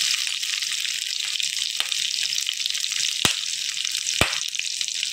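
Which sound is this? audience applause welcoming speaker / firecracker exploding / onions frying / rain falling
onions frying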